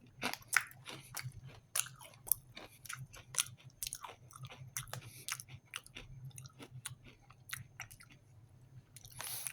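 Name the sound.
eating crunchy Croatian bread crisps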